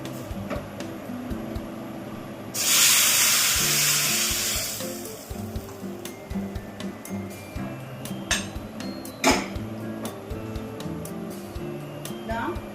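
Hot chili-powder tempering poured into a paneer curry gives a loud burst of bright sizzling for a couple of seconds, then settles into quieter crackle under a home kitchen's background noise.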